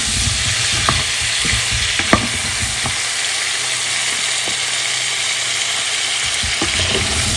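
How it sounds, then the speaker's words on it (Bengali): Cauliflower and potato fry in a pan with a loud, steady sizzle, broken by scattered scraping knocks as they are stirred, and no talk. "একটা আলু দিয়েছি, আলুগুলোও ফুলকপির সাথে ভেজে নেব।"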